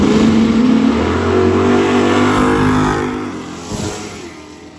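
Drag racing cars, including a big-tire B class Pontiac, roar as they accelerate down the strip, a loud, dense engine blast that slowly fades as the cars pull away.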